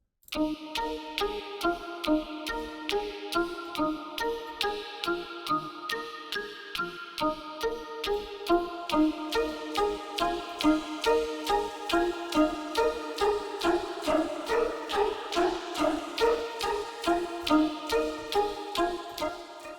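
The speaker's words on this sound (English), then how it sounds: "And so this is sitar" Sitar preset from the Shamanic Voices bank for the Pigments synth, playing a steady stream of plucked, twangy notes with a droning buzz and rich overtones, rhythmic and continuous, alone and fairly loud.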